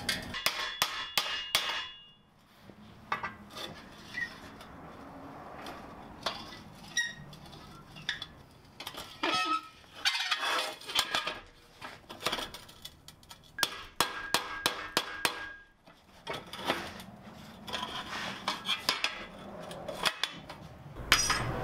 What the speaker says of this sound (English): I think I can hammer this back to the nice clean lines I had before